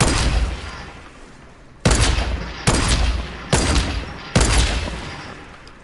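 Gunfire in a video game comes as loud, close bursts. One long rattling volley is followed by four heavy shots or short bursts about a second apart, each cutting off abruptly.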